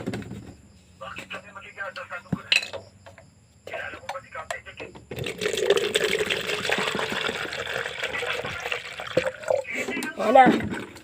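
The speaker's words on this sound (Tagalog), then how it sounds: "titigisan natin yan ng tubig." Water pours into a pitcher in a steady, close rush that lasts several seconds after a few brief trickles, while people talk over it.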